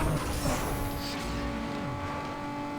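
A Nissan 350Z engine in the racing game NFS Underground 2 holds a steady high drone at speed, loud and continuous throughout with no talk.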